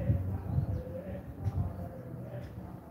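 Doves or pigeons coo softly in a drought-stricken garden planted with sunflowers and a hibiscus tree, low repeated hooting calls against a rustling outdoor background.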